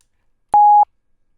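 A single steady synth plugin tone layered over a sine wave, sounding for about a third of a second as a clean pitched beep with abrupt start and stop, alone in silence.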